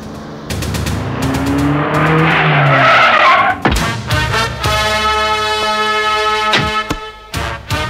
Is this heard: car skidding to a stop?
yes